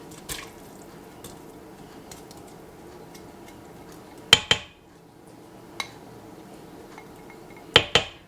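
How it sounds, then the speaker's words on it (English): Mashed beans are stirred into hot red beans and rice in an Instant Pot, quiet and sparse, with a few sharp metallic clinks of the spoon against the inner pot over a low background. "Add that in there and give that a stir."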